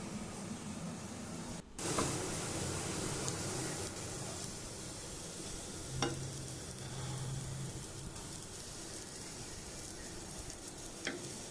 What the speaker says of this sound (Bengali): চাল দিয়ে খুব ভালো করে নেড়ে চেড়ে ভেজে নেব